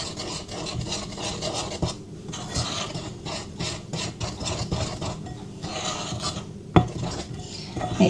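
A spoon scrapes and rubs through lemon drizzle cake batter made with oat milk in a bowl, giving repeated close rasping strokes, with a sharp clink near the end.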